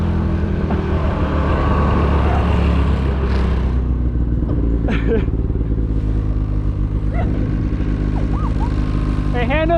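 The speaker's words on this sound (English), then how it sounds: "I forgot how to ride the snowmobile" Snowmobile engine droning loud and steady while riding through snow, with a deep continuous rumble and shifting revs, and a voice briefly heard over the motor.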